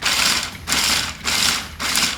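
A food processor pulses nuts and spices for Egyptian dukkah in four loud, even bursts with brief pauses between, close and with no talking.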